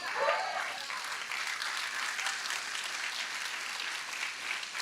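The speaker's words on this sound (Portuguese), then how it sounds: "Sua salva de palmas está muito fraquinha hoje." A church congregation claps in a thin, scattered round of applause that stays fairly faint and steady throughout.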